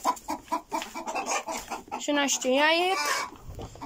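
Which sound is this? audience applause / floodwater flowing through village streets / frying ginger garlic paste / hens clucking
hens clucking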